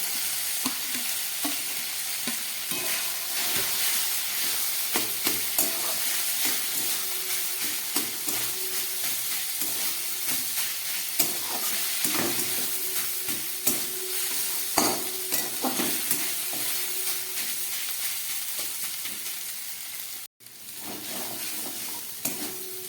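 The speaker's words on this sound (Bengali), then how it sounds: "এবারে আমি ভেজে রাখা আলুটা এর মধ্যে দিয়ে দিচ্ছি।" Fried potatoes go into spiced chicken in a pan for aloo chicken momo filling, giving a continuous loud stir-fry sizzle with frequent scraping and clattering stirs over about twenty seconds, with one brief break near the end.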